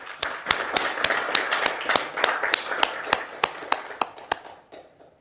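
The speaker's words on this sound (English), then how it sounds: "Can we please give Margaret a round of applause?" Councillors at a council meeting applaud a retiring staff member, a small group whose sparse, distinct hand claps fall in a loose, steady rhythm at moderate volume before tapering off and stopping.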